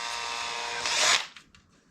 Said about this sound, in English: So I'm going to start drilling my holes for that.